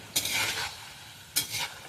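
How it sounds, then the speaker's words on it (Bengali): Potatoes deep frying in plenty of oil during festive cooking hiss steadily close by, with two brief scraping stirs rising above the sizzle, no voices present. "এদিকে ভাজা চলছে, একদম ছাঁকা তেলে আলু ভাজা হচ্ছে"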